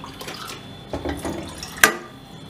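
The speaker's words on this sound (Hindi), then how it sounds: "एक कप पानी डाल लेंगे।" A cup of water is poured into a pan in a home kitchen to make tea, giving a short splashing pour with one sharp splash near the end, close and moderately loud.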